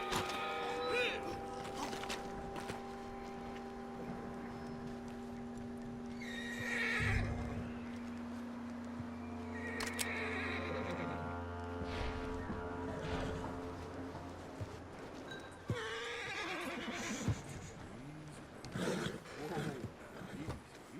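A horse in Red Dead Redemption 2 neighs and whinnies repeatedly, loud and close, over a steady tonal drone, with hoof sounds and someone talking in between.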